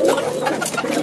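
Puter doves in a large flock of over a hundred birds coo close by, a short dense burst of overlapping soft calls.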